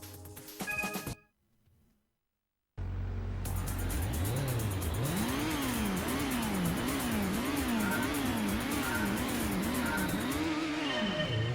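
A race car engine in the PlayStation game Gran Turismo starts with a short burst of sound, goes silent for a moment, then roars steadily and loudly, its pitch climbing and falling with each gear shift as the car accelerates.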